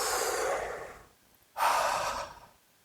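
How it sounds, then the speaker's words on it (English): A single deep breath: a long, soft inhale is followed after a short pause by a stronger, airy exhale, close and quiet with no talking. "Take a deep breath."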